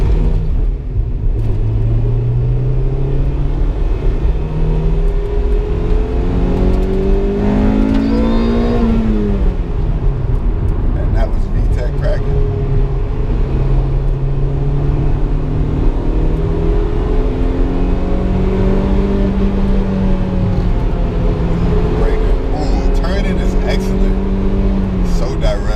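A Honda Civic EK9 Type R engine revs and pulls hard through repeated gear changes on a backroad, its rising and falling tone loud and close inside the cabin, with a person talking over the steady road rumble.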